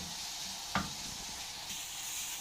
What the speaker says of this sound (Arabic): اول ما تدبل معايا البصله ننزل بالفلفل، بس ثواني كده نقلب